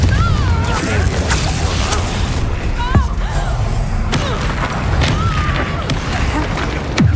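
Confringo fire-spell explosions in the Hogwarts Legacy video game land as a few heavy thuds and booms inside a dense, continuous battle soundscape, with voice-like game sounds running throughout.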